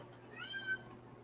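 A single short meow from a restless house cat sounds indoors against a quiet, low hum, soft and slightly distant, with no one talking over it.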